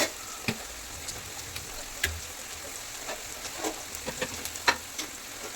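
Onions fry gently in a pan with a soft, low sizzle, dotted with scattered small crackles and ticks and a few light stirring clicks, faint and close.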